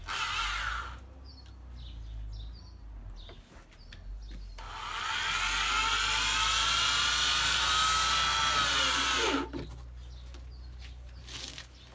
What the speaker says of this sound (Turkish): aynı şekilde matkapla vidalamaya devam ediyoruz